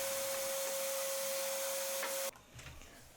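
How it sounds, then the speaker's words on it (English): A workshop dust collection system runs with a steady, loud broadband whoosh and a constant tonal hum, then cuts off sharply near the end and leaves quieter room noise. "that's just the dust collection you're hearing"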